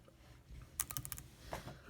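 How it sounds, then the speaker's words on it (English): A sticky 9 key on a MacBook Pro Retina keyboard is pressed repeatedly, giving a cluster of soft, close, tacky clicks with a slight dull catch, then one more press after a short pause. "you can see here when you press the 9, it becomes really tacky"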